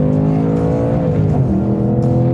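A Ford Mustang Bullitt V8 engine revs loudly and steadily from inside the car, its deep, rich drone rising and dipping slightly with no talking over it.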